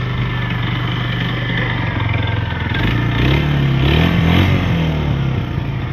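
A 1995 Suzuki GN250 motorcycle engine, neglected for 15 years, idles roughly and then revs up, the pitch rising and falling, loud and close with a mechanical clatter.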